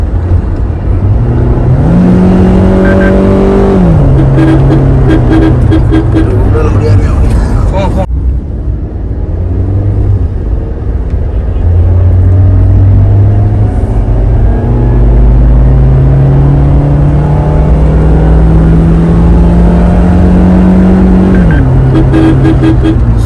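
A Maruti Suzuki Jimny accelerates hard from inside the cabin, its engine note climbing in pitch through several gear changes with brief dips at each shift; the drone is loud and close throughout.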